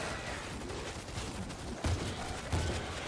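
Sustained rattling gunfire from automated turrets in the zombie shooter World War Z, a dense continuous stream with a couple of heavier thumps, heard without speech.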